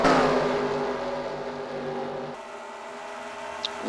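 Race trucks in a stock truck series race roar past on the track, a loud engine whine that fades as they move away, then a quieter steady drone.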